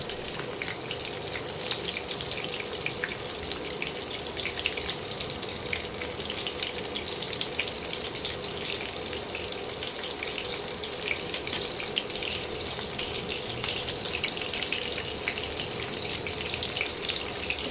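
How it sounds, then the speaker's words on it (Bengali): Lote fish (Bombay duck) pieces frying slowly in a pan over lowered heat, a steady close crackling sizzle with watery hiss that holds evenly throughout, no voices. "এইভাবে প্রতিটা মাছকে আস্তে আস্তে ভেজে নিতে হবে।"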